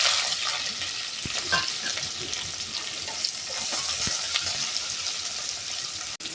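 Mustard seeds and cumin splutter in hot oil for a simple rice-and-dal dish, giving a continuous close sizzle with scattered small pops and occasional stirring.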